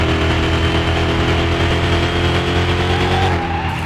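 A 1980 Ford Bronco fitted with a V8, salvaged from a scrapyard and lowered, roars loud and close at full throttle, a steady sustained engine drone with no talk over it.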